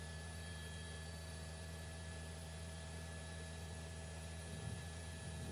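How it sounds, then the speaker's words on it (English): A steady, droning LAPD police helicopter hum holds throughout, fairly faint and distant overhead, with no voices. "so does that LAPD helicopter here"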